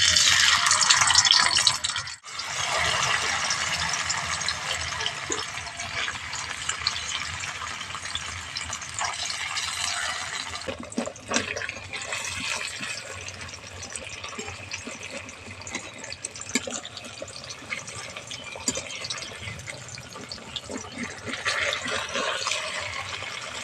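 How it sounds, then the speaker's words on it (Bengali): Paneer pieces fry in hot white oil in a kadai with a steady, close, broadband sizzle that carries on for over twenty seconds with a brief dip near the start. "কেটে রাখা পনিরগুলো ভেজে নিচ্ছি হালকা করে"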